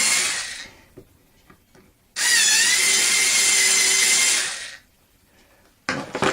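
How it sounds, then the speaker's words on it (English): A power drill bores a hole in wood for a handmade wooden doll, a loud close whine lasting about two and a half seconds, bracketed by shorter bursts and quiet handling noises. "And I'm going to just drill here."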